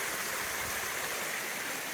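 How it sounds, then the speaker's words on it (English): A big waterfall in the woods rushes steadily with a dense, even roar, close and continuous, with no voices over it. "You can see it's actually a big, awesome waterfall in here."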